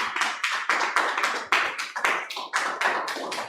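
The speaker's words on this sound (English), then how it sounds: "A huge round of applause for Animesh." Hands clap for a top-ranked exam candidate at a live event, a sparse, close patter of sharp individual claps in an uneven rhythm rather than a full crowd roar.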